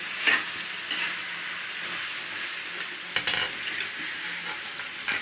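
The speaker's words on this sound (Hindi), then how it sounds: "सब्जी चला करके देख लेती हूँ" Chana and pumpkin curry being stirred in a pan, a soft continuous sizzle broken by a few scraping spatula strokes and clinks, quiet and close with no voices.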